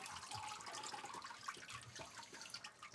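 Water runs steadily through a gold sluice box in an even, continuous wash with light splashing and trickling, close by and moderately loud, with no talking.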